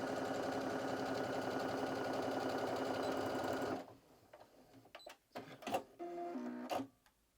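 Sewing machine stitches a seam on fabric with its needle at position 7.0, a steady close rapid chatter for nearly four seconds, then stopping and leaving soft clicks and handling noises.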